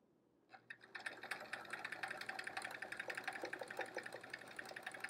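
A sewing machine stitches quilting lines across a quilt block, its needle running in a fast, steady mechanical patter after a brief start, close and fairly quiet with no talking.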